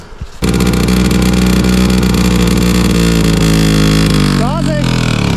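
A motorcycle idles and revs steadily, then pulls away as the clutch engages and the throttle opens, its engine loud and close throughout, with a brief rising whine near the end.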